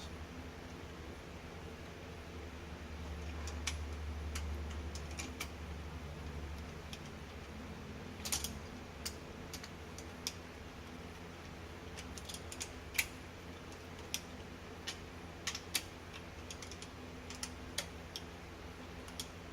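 A ratchet running in and tightening bolts during an electric water pump conversion on a Skyline, sparse faint clicks and ticks over a low background hum, close by, with no voices.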